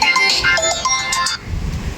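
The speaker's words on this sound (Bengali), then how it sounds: "যে ফোন এসছে আমার কাছে।" A mobile phone rings with an incoming call from a book delivery man, a bright melodic ringtone playing loudly and close for over a second before cutting off, followed by low background rumble.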